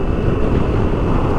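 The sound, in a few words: BMW K1600 GT motorcycle exhaust note after ECU flash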